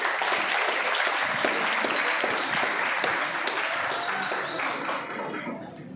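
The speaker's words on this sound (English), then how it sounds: "A clap for that too." Applause from the audience at the inauguration of a college mediation cell in Delhi, a steady dense wash of clapping that holds for the whole stretch and thins slightly toward the end.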